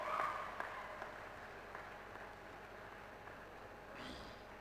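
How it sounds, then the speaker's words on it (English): Audience applause at a university convocation honoring the top-scoring graduate, a steady, fairly faint wash of clapping across a large hall that holds evenly and swells slightly near the end. "Please give a big round of applause."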